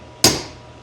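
Hammer blows driving an upper door hinge bushing, one sharp loud metallic strike ringing out and decaying, followed by the start of a second hit.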